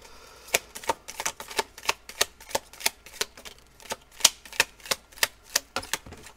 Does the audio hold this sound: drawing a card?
yes